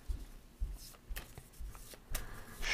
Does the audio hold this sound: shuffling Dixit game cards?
yes